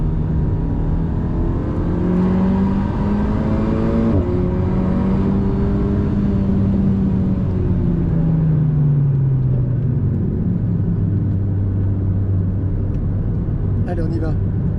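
An Alpine A110 S on a wet Spa-Francorchamps circuit is heard from inside the car as a steady, prominent engine drone whose pitch dips partway through, under nearly continuous talking.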